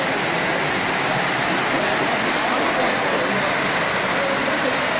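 Heavy rain pouring down during an outdoor wedding, a dense, loud, unbroken roar of falling water.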